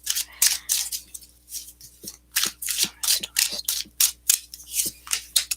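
Quick bursts of papery riffling and flicking as tarot cards are shuffled, repeated in uneven clusters with brief gaps, close up and with no talking.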